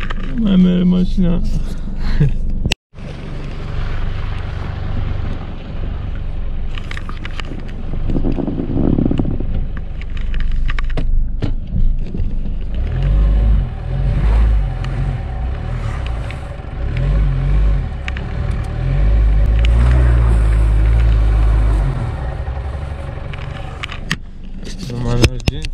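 A car stuck on a steep mountain track on Muntele Mare revs its engine without moving, deep rumbling surges that build in the second half, under wind buffeting and someone talking.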